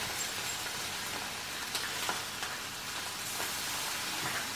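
Halloumi cheese frying in a pan, a steady close hiss and sizzle with small crackles and pops throughout, no talking.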